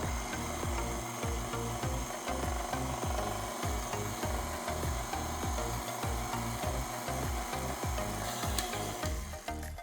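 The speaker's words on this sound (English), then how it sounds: "now we're gonna mix it again." A steady electric mixer whirs loudly throughout, its motor drone pulsing slightly as the beaters churn through thick, light green pistachio cupcake batter.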